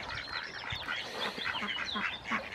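A dense chorus of ether ducks calling over one another at a breeding farm, busy and continuous, with overlapping quacks and honks at moderate distance.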